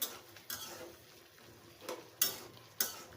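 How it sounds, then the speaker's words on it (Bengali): Cauliflower and potato pieces are stirred while frying in a pan, with a few sharp spatula scrapes and taps against the metal over a faint, quiet sizzle. "দেখো ফুলকপি আলুটা কষানো কেমন হচ্ছে"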